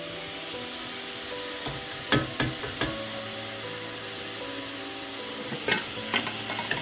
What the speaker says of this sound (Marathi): आपण जे आता केळफूल केळफूल बारीक करून जे उकडलं होतं ते आता यामध्ये मिक्स करूया